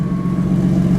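Tuned Ford F-150 EcoBoost with a straight-pipe Borla Atak exhaust rumbling just after startup, a loud, deep, steady idle close by with a faint whine above and no talking.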